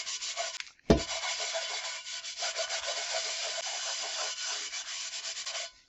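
Burnt bottom of a pot scrubbed hard, a continuous close, coarse scouring rasp that runs almost unbroken for several seconds after a brief knock near the start, with no voices.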